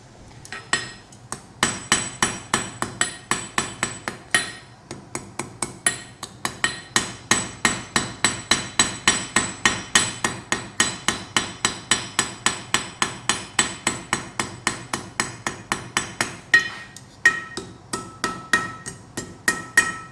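A blacksmith hammers a hot forged leaf pendant flat on the anvil, a long steady run of quick ringing metallic blows with brief pauses, close and loud.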